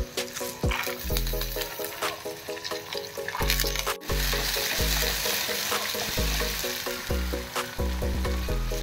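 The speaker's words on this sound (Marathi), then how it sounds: "कांदा होत असतानाच त्याच्यामध्ये आपल्याला टाकायची आहे हरभऱ्याची डाळ, म्हणजे ती व्यवस्थित शिजेल." Onion frying in a pan with chana dal, a steady loud sizzle broken by repeated scraping stir strokes and clinks at a fairly regular pace.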